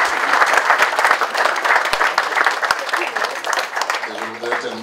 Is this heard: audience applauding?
yes